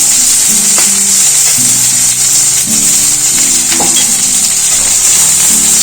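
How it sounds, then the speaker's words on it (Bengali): Onion sizzles steadily in hot oil, a constant loud crackling hiss with occasional stirring scrapes and a low hum underneath, no talking. "পেঁয়াজটা একটু ভেজে নেবো"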